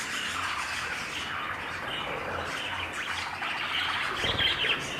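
Pet sparrows in an indoor breeding room give a steady wash of overlapping chirps and squawks, with no talking, growing a little louder and busier near the end.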